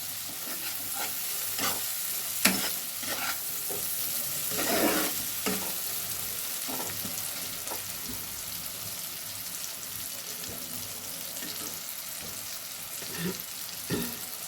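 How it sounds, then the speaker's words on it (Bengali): Spice paste for a Bengali duck egg curry sautéing in oil in a pan, with a steady soft sizzle and repeated scraping stirs of a spoon, close and fairly quiet, no talk. "তাও আমি আরেকটু মশলাটা কষে নেব"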